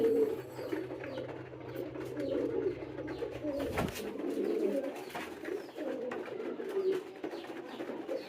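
Homing pigeons cooing steadily through the whole stretch, a continuous layered murmur of several birds close by, with a brief louder flutter or knock near the middle and no talking.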